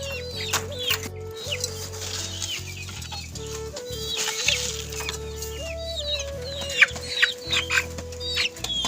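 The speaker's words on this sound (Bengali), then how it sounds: "এই মুরগিগুলো আমার এগুলা এত জ্বালাতন করে" Several chickens cluck and squawk nearby in irregular bursts, with a low steady hum underneath and a few louder calls toward the end.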